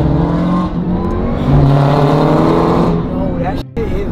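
A loud Jeep Grand Cherokee Trackhawk engine revs and accelerates close by, its pitch climbing and holding, then cutting off briefly before resuming.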